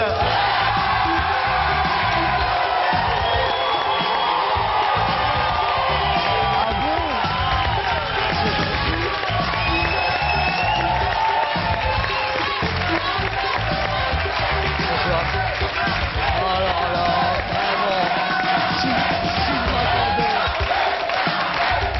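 A television studio audience welcomes comedian Jamel Debbouze with sustained applause, cheering and shouts, a dense steady roar of clapping and voices lasting throughout.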